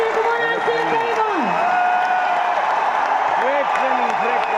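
An audience claps loudly and continuously at a business training talk, a broad wash of applause with a voice speaking over it.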